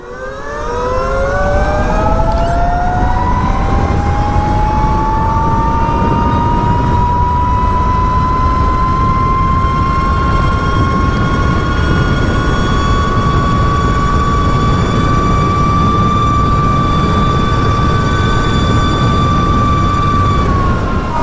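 A carbon fiber Sur-Ron electric dirt bike at full throttle in sport mode gives a loud, steady electric motor whine that rises in pitch and then holds high, over heavy wind rumble.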